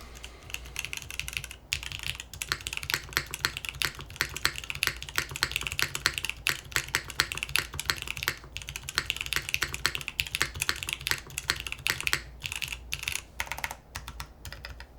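Fast, continuous typing on a 60% mechanical keyboard with a numpad sounds close and crisp, its dense rapid clacks running steadily for about fifteen seconds with only a few brief pauses.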